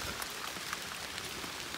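Rain comes down outdoors on Clinton Road in New Jersey, a dense, even hiss of drops with faint patters, steady and alone for a couple of seconds.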